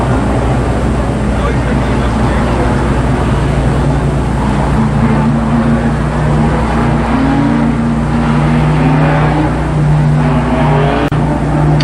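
Limited sportsman race cars roar around a speedway track in a loud, continuous engine drone, with rising pitch sweeps as cars pass, while a public-address voice talks over the noise.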